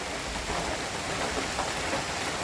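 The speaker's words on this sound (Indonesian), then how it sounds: "hujannya masih rintik-rintik seperti ini" Light drizzle patters steadily on a mountain hiking trail near Puncak Mangu under thickening clouds, a soft, even hiss of fine raindrops close around with no talking.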